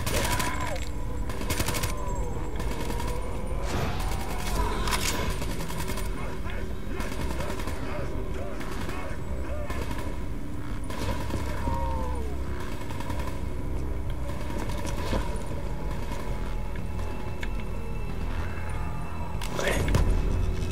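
Sustained gunfire from Call of Duty Black Ops 3 runs throughout, a steady barrage of rapid shots with occasional sharper cracks, while a voice talks intermittently over the din.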